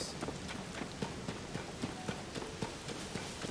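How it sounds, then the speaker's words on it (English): Horse hooves clip-clop at a steady trotting rhythm in Zelda: Tears of the Kingdom, crisp repeated hoofbeats over a constant background wash of rain and ambience, with no voices. "Horses."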